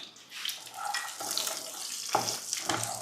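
Shallots frying in oil in a pan for a Kerala-style prawn curry, giving a steady crackling sizzle with brief louder bursts, close up and with no talking.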